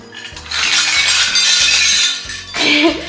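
Metal running medals clink and jangle against each other as they are hung on a personalized medal holder, a loud, dense metallic chiming that swells over about two seconds, pauses briefly, then rattles again.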